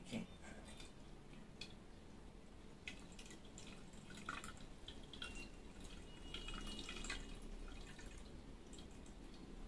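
Green-tinted water leaks and drips in a school science demonstration, faint scattered drips over a quiet hiss, close and subdued with no voices.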